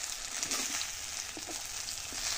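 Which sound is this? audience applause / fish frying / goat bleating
fish frying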